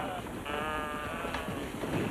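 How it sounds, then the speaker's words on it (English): Sheep bleat in a pen shared with a goat, one drawn-out wavering bleat close by with a second fainter call following, over a quiet outdoor background. "How come you have a goat in there with the sheep?"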